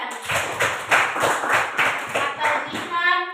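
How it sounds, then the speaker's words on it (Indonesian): A class claps for a student named Jihan. About eight short, even bursts of hand claps come at a steady rhythm, close and moderately loud, in a classroom. "Luar biasa sekali, tepuk tangan Jihan."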